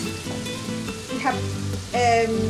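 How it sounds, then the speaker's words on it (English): Tomato and pepper sofrito frying in a pan for paella, a steady close sizzle and crackle that grows louder near the end, with a brief stir partway through and no talk. "Okay, my sofrito is nearly cooked. My tomatoes are soft, my peppers are soft"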